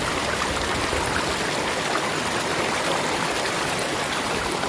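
Stream water rushes steadily through a Green Mountain Gold sluice trap set in a creek, a dense close hiss and burble that stays even throughout with no voices.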